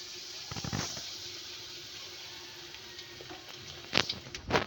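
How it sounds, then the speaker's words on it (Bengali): Palm fruit fritters frying in oil in a wok: a soft, even sizzle and hiss close by, with a few louder bubbling bursts near the end and no speech. "মা কড়াই তেল দিয়ে একদম সুন্দর সুন্দর বড় বড় করে তালের বড়া ভাসছে"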